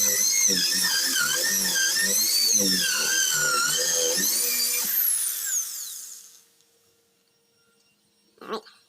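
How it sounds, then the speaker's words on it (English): A high-pitched power drill pre-drilling 3/8 holes for a dash plate whines steadily for several seconds with shifting pitch, then spins down and stops, followed by a brief clatter. "Looks like I'm going to have to pre-drill these 3/8."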